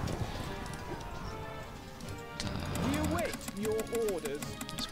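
Horses gallop in the strategy game Stronghold Crusader, a quick run of hoofbeats with whinnying cries rising over it, heard beneath someone talking steadily throughout.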